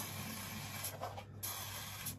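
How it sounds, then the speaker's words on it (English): Waterproofing spray is applied to a wooden shed, giving a steady close hiss with a few stronger bursts as the nozzle is pressed. "Give a little spray"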